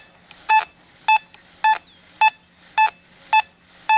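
A Fisher F44 metal detector sounds over a nickel buried 6 inches deep, giving seven evenly spaced, short electronic beeps of a steady pitch, each lasting a fraction of a second, with faint clicks between them.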